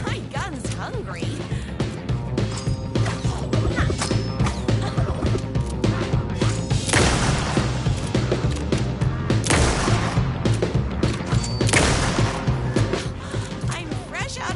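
Gunfire in the video game Alan Wake 2, Night Springs episode: dense bursts of shots over a constant busy game soundscape, with louder flurries in the middle and near the end, and talk in the background.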